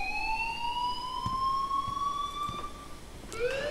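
A shrill electronic alarm rings in the video game Life is Strange, a sustained tone that slowly rises in pitch, then breaks off and restarts near the end, with faint clicks in the background.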